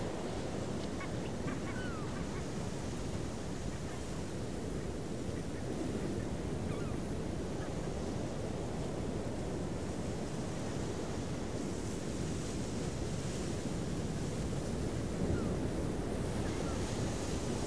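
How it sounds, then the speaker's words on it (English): Waves wash steadily onto Omaha Beach in Normandy, France, a soft continuous surf roar mixed with light wind buffeting the microphone, fairly faint and with no talk. "This is Omaha Beach, and probably the most famous of the American landing beaches on D-Day"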